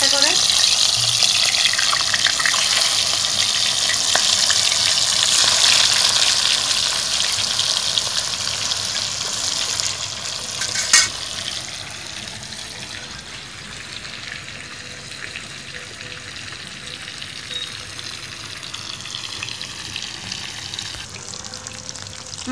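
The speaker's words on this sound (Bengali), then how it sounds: "এবার আমি মাছগুলো ছেড়ে দিব একটা একটা করে।" Pangas fish pieces dropped into hot oil in a kadai set off a loud, crackling sizzle that starts strong and gradually eases to a quieter steady fry.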